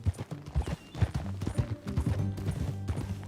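Horse hooves clip-clop in a brisk, uneven rhythm during a ride in the video game Red Dead Redemption 2, close and clear with soft snorts and light tack sounds, no talk.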